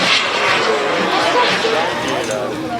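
Rafale Marine 1/9 scale model jet flying a display at an air meeting, a loud continuous turbine roar with rising and falling passes, with a commentator and crowd chatter over it.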